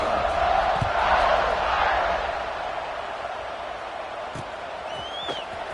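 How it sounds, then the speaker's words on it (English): A stadium crowd in College Football 26 roars steadily as a Notre Dame vs Wisconsin kickoff approaches, a dense wash of cheering that swells early and then settles to a lower, sustained murmur. "this crowd now ready to get behind them"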